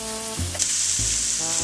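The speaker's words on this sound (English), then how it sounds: "we're going to go ahead and flip over the liver now" Liver sizzles and crackles loudly in a hot frying pan, a dense close hiss broken by brief clatter as it is stirred and turned, with no talk.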